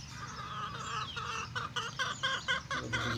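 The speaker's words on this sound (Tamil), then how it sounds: "பாருங்கள், கோழி ஒரு பக்கமும் குஞ்சுங்க ஒரு பக்கமும் இருக்குது பாருங்கள்." A mother hen clucks close by with her chicks, soft repeated clucks and faint peeping over steady farmyard background noise.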